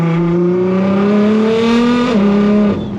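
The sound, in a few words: Nissan GTR accelerating hard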